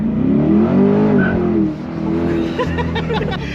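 A Chevrolet Corvette C8 launches hard using launch control, its engine rising in a loud, close, swelling roar that climbs through the revs, eases briefly, then surges again, with light chatter from occupants inside the car.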